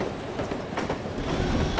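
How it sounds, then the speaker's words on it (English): Train ride in the video game No One Lives Forever, a steady rumbling rail noise with faint rhythmic clacks of carriage wheels running continuously and fairly close throughout. "I love riding the train."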